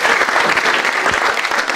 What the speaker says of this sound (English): एक बार चलिए ताली बजाएंगे यार.